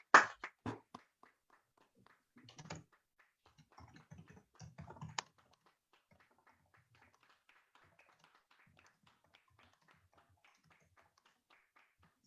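Computer keyboard typing during an online debate call, a few close bursts of key taps at the start and in the middle, then faint scattered clicks.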